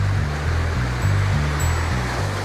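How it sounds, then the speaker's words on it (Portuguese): Steady roaring rush of a 120-metre waterfall in Chapada dos Veadeiros, a broad continuous wash of falling water heard alone with no voices. "nós estamos agora diante da cachoeira considerada a mãe das cachoeiras pelos"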